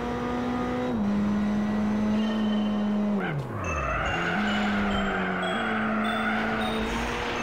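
A racing car drifts in Gran Turismo HD on PS3 with a loud, sustained engine drone and steady tyre squeal. Midway the engine revs dip and sweep back up, and the squeal continues close and alone, with no talk.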